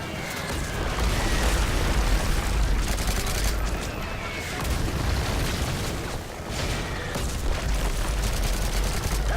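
A frag grenade explosion amid heavy gunfire in the video game Modern Warfare 3, with dense, sustained booming and shooting throughout and voices talking over the battle.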